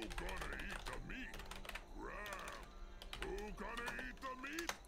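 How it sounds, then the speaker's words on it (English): Rapid tapping on a computer keyboard runs beneath a lively, pitched voice talking and exclaiming nearby, with the clicks faint and soft under the speech. "Typing."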